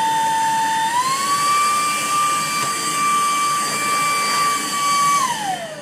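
Cordless vacuum cleaner clogging up, a loud whining motor tone that rises in pitch as the airflow chokes, holds steady, then drops away at the end.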